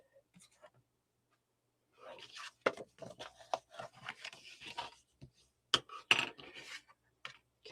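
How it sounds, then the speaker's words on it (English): Paper pieces for a folio album being folded and burnished by hand: a run of soft rubbing and scraping strokes, close and fairly quiet, with a couple of sharper creasing taps, after a near-silent start. "Folding and burnishing."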